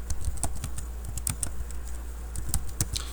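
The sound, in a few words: typing a file name on a computer keyboard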